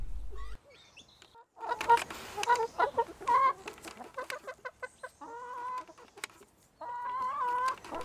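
Chickens on a poultry farm cluck and cackle in a busy, overlapping flurry of short calls, fairly close, with a few longer squawks standing out.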